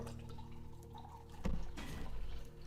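Close, quiet sound of a small amount of water being poured into a container, a soft trickle that swells slightly halfway through before settling.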